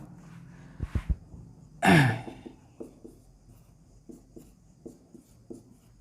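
Chalk or marker taps and short strokes on a board during a chemistry lecture come at intervals, faint and close. There is a throat-clearing cough partway through.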